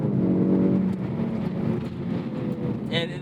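Turbocharged 2024 Ford Mustang EcoBoost engine revving hard toward redline, a strained rising drone that tapers off, heard from inside the car with a brief higher tone near the end.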